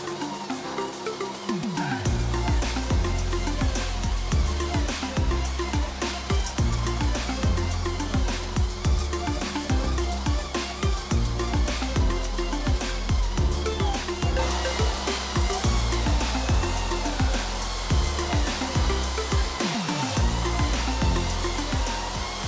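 A power sander pressed against a ceiling switches on and runs with a loud, steady whirring drone for the whole stretch, with no voices.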